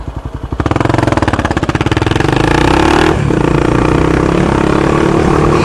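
Honda Twister CBX250 motorcycle ridden on a road, its engine loud and close throughout, with a pulsing note that climbs as it accelerates and shifts, then holds a steady drone.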